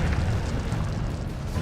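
A burst of the Incendio fire spell in Hogwarts Legacy, a dense, roaring whoosh of flame with a low rumbling body, loud and sustained through the short moment.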